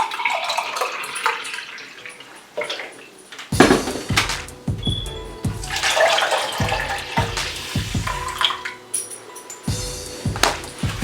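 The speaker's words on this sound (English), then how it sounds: "And to this, I'm gonna add 1 cup of water." Water being poured into a saucepan of milk on medium heat for masala chai, splashing close by with a run of irregular knocks and clatters, no talking.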